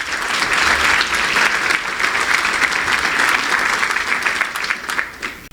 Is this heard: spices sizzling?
no